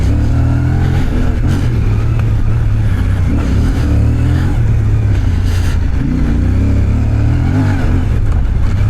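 A Moto Morini Vettore 450 adventure motorcycle rides over bumpy off-road terrain at a steady medium pace, its engine droning loud and close with continuous rumble and small throttle swells throughout.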